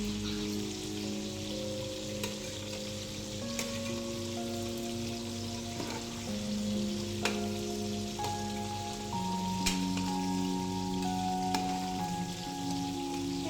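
Vegetables sautéing in a pan during home cooking of an iftar meal, a steady soft sizzle and crackle like light rain, alone and fairly faint under a low tonal hum.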